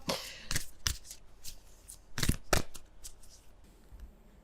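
Oracle cards being shuffled by hand, several crisp riffling bursts with short pauses between them, close and soft in a quiet room.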